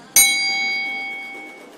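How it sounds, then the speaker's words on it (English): A single bright bell struck once by judges on a music review show, ringing out with a sharp attack and a clear, long-sustaining metallic tone that slowly fades. "let's have another bell"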